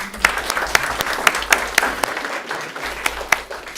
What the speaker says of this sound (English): you can give Keller a round of applause